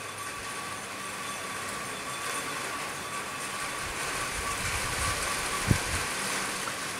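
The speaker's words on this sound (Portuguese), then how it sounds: "estou dizendo o barulho da chuva" Steady rain in Conselheiro Lafaiete, Minas Gerais, Brazil, after a long dry spell: an even, broad hiss throughout, with one brief louder thump near the end.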